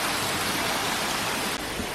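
Waterfall, partly artificial and partly natural, at a cave house resort in Munnar, pouring as a steady, dense broadband rush that fills the scene continuously, close and loud with no talk.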